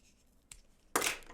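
Scissors make a small snip and then a longer, crisp cut through a paper rose petal, close and quiet with no talk.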